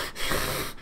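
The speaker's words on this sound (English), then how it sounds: "so much grunting and just heavy breathing" Heavy breathing and grunting from a character in a Fire Emblem anime, a loud raspy exhale that swells and fades, close and alone.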